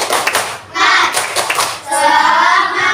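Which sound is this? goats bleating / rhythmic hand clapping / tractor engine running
rhythmic hand clapping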